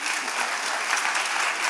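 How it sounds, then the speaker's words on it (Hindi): An audience at a children's festival applauds the performers after a Hindi Academy summer-workshop play, with dense, loud, even clapping filling the short stretch and no speech. "सभी कलाकारों के लिए जोरदार तालियां।"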